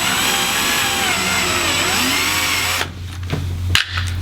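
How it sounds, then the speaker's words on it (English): A power drill bores a hole in a kayak to fit a YakAttack LeverLoc anchor trolley, whining loud and steady at close range before cutting off, followed by a few clicks and handling knocks. "I'm going to drill the first hole."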